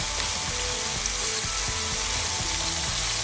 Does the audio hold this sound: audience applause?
no